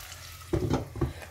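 Onion frying in a pan gives a faint, soft sizzle, broken by a few brief stirring scrapes near the middle and end.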